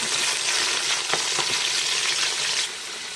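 Loud, steady sizzling of spices frying in hot oil for chicken biryani, a dense crackling hiss with a few sharper pops, no talking.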